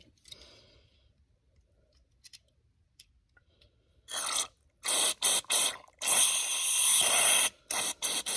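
Aerosol carburetor cleaner sprays into a disassembled go-kart carburetor in several loud hissing bursts that start after four seconds of near silence, each burst cut off sharply, close to the microphone.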